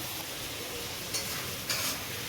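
Prawns sizzle quietly in a pan while being stirred for a Bengali prawn kalia, a soft continuous frying hiss broken by two brief metallic scrapes or clinks of the utensil against the pan.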